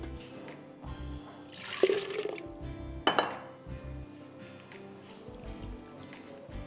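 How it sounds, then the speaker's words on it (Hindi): Water poured into a cooking pot of kadhi with coriander, splashing amid metallic clinks of pots and utensils, with two sharper bursts of pouring and clatter near the start and middle of the stretch. "थोड़ा सा पानी हम डालेंगे, ये नॉट इनफ वाटर।"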